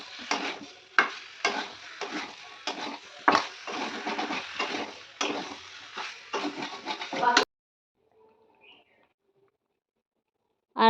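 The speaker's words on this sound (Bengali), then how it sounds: "তারপর আমি এখানে সিদ্ধ করা আলুগুলো দিয়ে দেবো, আর দিয়ে খুব ভালোভাবে নেড়ে চেড়ে নেব।" A spoon stirs boiled potatoes frying in spice paste for Bengali aloo dum, producing repeated scraping, sizzling strokes for several seconds before falling silent.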